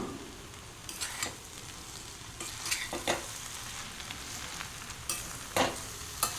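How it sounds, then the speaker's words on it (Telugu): Noodles tossed with vegetables in a frying pan, a low sizzle under repeated spatula scrapes and knocks at an uneven pace, nearby and with no voices. "ఇప్పుడు ఈ నూడిల్స్ని ఈ వెజిటేబుల్స్ దాంట్లో వేసుకుని బాగా కలుపుకోవాలి"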